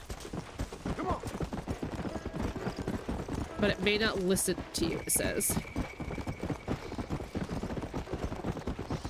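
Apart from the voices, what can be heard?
zombie horse hooves clopping in Red Dead Redemption: Undead Nightmare video game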